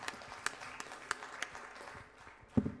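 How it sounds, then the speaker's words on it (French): An audience at a youth media forum in the Grand Est applauds, a quiet, thin patter of clapping with a few sharper individual claps, heard at some distance. "Moi, je vous invite tous à vous applaudir"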